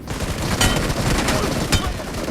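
Rapid gunfire in the mobile battle royale game BGMI, a dense burst of shots over constant game noise, loud and continuous with a couple of sharper cracks.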